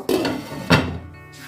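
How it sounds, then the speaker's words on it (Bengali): Lid placed on a metal wok holding marinated paneer: two sharp close clanks about half a second apart, then quiet ringing decay. "ঢাকনাটা দিয়ে দেব।"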